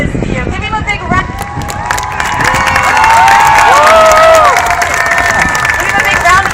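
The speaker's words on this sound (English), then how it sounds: "Give him a big round of applause, folks" A live crowd cheers, whistles and applauds for a 73-year-old motorcycle daredevil after a Globe of Death act, loud and sustained with shouts rising over the clapping and a voice talking over it.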